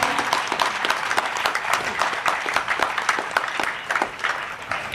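Applause at an Urdu speech competition winners' celebration in Bhiwandi, a steady patter of many hands clapping at moderate loudness throughout, without talk.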